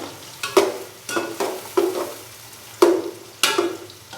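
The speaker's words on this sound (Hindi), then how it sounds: "प्याज को हम अच्छे से फ्राई करेंगे तकरीबन गोल्डन ब्राउन होने तक" Onions sizzle steadily in a hot pan, frying toward golden brown, while a utensil scrapes and stirs through them in several distinct strokes, close and fairly loud, with no talking.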